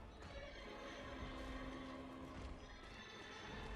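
A horse neighs in the game Bloodborne, its whinny carrying over steady clatter of hooves on stairs, with a continuous game ambience running underneath throughout.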